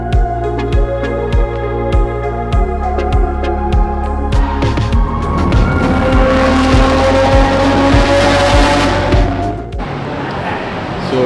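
Nissan R33 GT-R LM driving at night on the way to a Japanese car meet, a steady close engine drone with a rhythmic low pulse, rising in pitch and loudness midway before easing off near the end.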